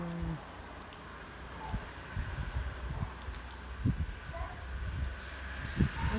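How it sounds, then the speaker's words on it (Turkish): Cold wind rumbles against the microphone in uneven low gusts beside a rippling lake in rain, with soft rustling and brief bursts of buffeting. "Rüzgar esiyor."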